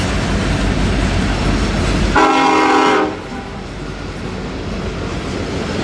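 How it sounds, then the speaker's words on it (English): Freight train led by an SD70M-2 locomotive roaring past close by near Nokomis, Saskatchewan, with loud rumbling and a sustained horn blast of under a second before the noise drops to a steadier rolling rumble of wagons. "Led by an SD70M-2. So dirty I can hardly tell. On its way to Melville and points east."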